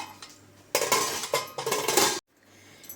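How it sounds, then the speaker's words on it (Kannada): Metal clanks and scrapes as a lid is fitted onto a pressure cooker of vegetable pulao, a few close rattling knocks over about a second, then quiet. "ಮುಚ್ಚಳ ಮುಚ್ಚಿಸ್ತಾ ಇದ್ದೀನಿ."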